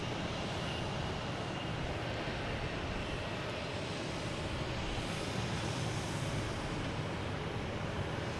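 An Alaska Airlines jet lined up at Boston Logan Airport gives off a steady, distant roar of engine noise, a broad, constant rush with no talk over it.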